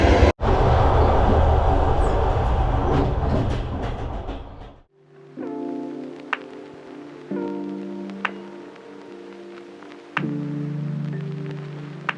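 Steady rumbling interior noise inside a passenger train on a 10-hour journey to Almaty, a broad roar at first, then a quieter hum with low tonal drones and occasional sharp clicks and knocks from the carriage.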